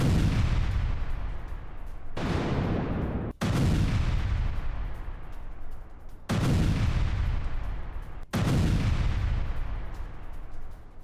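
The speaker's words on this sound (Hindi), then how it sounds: "यूक्रेनी सेना ने मिसाइल अटैक किए हैं और यूक्रेनी बमबारी में रूसी ठिकाने कैसे तबाह हुए उसकी तस्वीर अब आपके सामने होगी" Heavy bombardment from a Ukrainian missile attack on Russian positions, a series of four or five deep booming blasts, each decaying into a long rumble, loud and continuous with no voices.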